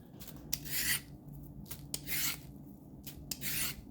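A carrot for chicken soup is peeled in quick repeated scraping strokes, four bursts of rasping close up in a quiet kitchen.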